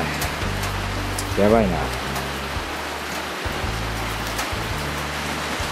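Heavy rain pours on a steel-pipe storage shed under construction, a steady broadband hiss with drips, while someone speaks briefly over it.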